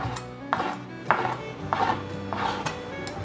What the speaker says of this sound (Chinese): 香菇角切片， 再来切成条状。